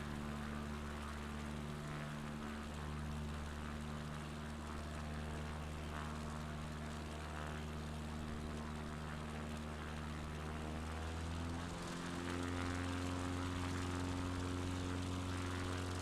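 A simulated propeller plane drones in flight over the Apennine mountains near Celano, its steady engine hum holding constant with a slight shift in pitch partway through, faint and continuous with no voices.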